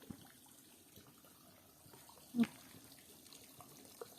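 An open outdoor tap runs in a home vegetable garden in Italy, giving a faint, steady rush of flowing water throughout, with a voice and a soft knock partway through.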